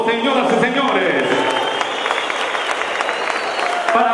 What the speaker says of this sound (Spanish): El caluroso aplauso, señoras y señores